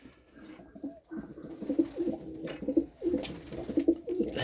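Pigeons coo close by in repeated soft, throaty rolling calls, several overlapping phrases in a quiet space.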